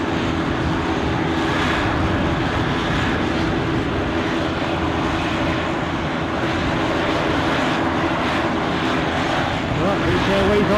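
A British Airways airliner at Aberdeen Airport rolling for takeoff, a broad, steady engine roar building slightly toward the end.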